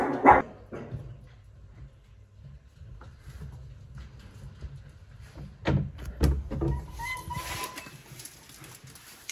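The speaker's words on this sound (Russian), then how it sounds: "Хватит гавкать." A dog barks indoors, with a sharp bark at the start and a few more in a cluster later, set against low background rumble and scattered household clatter.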